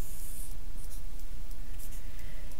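Pen or marker scratching out numbers while drawing a graph for an inequality, a steady close scraping with short higher strokes, alone without talk.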